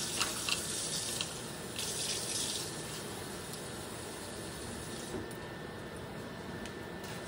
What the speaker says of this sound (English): So let me add my water here.